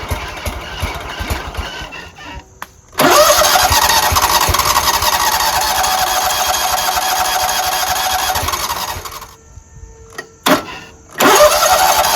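A Scag Tiger Cub 48-inch commercial zero-turn mower engine cranks briefly, then catches and roars loudly for about seven seconds before cutting out, followed by another short crank and restart near the end.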